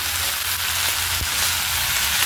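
Chopped onion frying and being stirred in a hot pan for a spice-masala recipe, a steady bright sizzle with faint scraping of the spoon, close and continuous.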